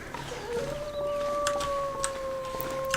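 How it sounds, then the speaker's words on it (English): A wolf howls in The Long Dark, one long, sustained, wavering tone that sounds near and carries over a low windy backdrop. "that sounds like that wolf's very close by to me. That howl was like right on the button."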